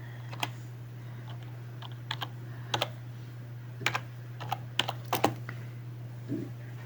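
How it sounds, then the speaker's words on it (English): Keys on a computer keyboard are tapped in sparse, uneven clusters as a command is entered on a Red Hat Linux machine, close clicks over a steady low electrical hum. "So I'm going to type"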